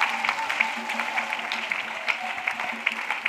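A church congregation claps for Jesus, a dense, steady patter of many hands with faint rhythmic accents, moderately close and continuing evenly throughout without speech.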